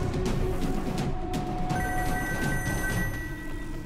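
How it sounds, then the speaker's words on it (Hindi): A mobile phone rings amid a busy, noisy market street, its electronic tone steady and moderately loud over heavy background rumble. "लगता है महिमा चौधरी का फोन है। बंद कर दे रे इसको।"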